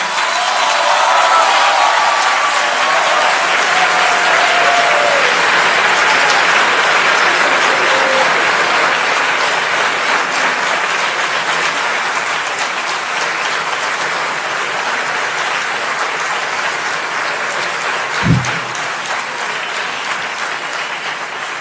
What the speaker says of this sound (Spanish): Recibimos con un aplauso como abrazo al señor Juan Sasturain.